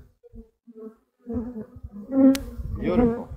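Honey bees buzz around a horizontal hive, a few faint passes at first, then a louder, close swarm droning past with rising and falling pitch.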